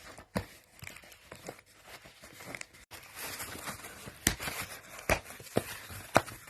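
Cardboard box packaging of a Hauser XO ball pen being opened by hand, with close tearing, crinkling and scraping sounds and several sharp louder rips toward the end, no talking.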